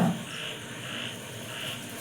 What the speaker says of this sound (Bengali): দেখেছ কেমন ব্যাং ডাকছে